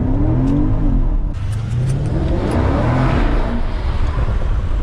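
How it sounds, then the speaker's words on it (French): A 2013 Porsche Panamera GTS V8 engine revving and pulling hard, a loud, steady engine roar that rises in pitch through acceleration and fills the whole clip. "on nourrit quand même un V8 en tapant un peu dedans"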